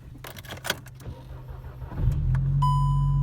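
A Volkswagen MK6 GTI engine cranks briefly and catches, settling into a steady, close idle with a faint high whine, after a few light clicks and handling noises.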